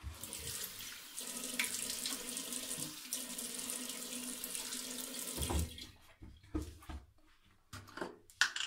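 Water runs steadily from a bathroom tap into a sink during shaving prep, a continuous close hiss for about five seconds before it cuts off, followed by a few scattered clinks and splashes.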